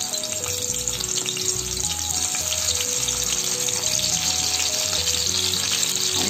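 Brinjals sizzle steadily in hot oil in a kadhai on low gas, a continuous close crackle and hiss with no talking and soft instrumental music running underneath.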